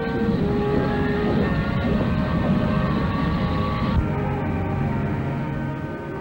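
A train rumbles steadily through a railroad yard, with a continuous low roar and metallic rolling noise; a high air-brake hissing tone cuts off partway through.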